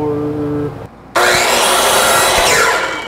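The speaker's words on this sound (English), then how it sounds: "we gotta do a little bit of cutting for a brace here" A brief pause, then a saw rasps loudly and continuously through wood for a shipping crate brace, close up, after a short moment of low talk.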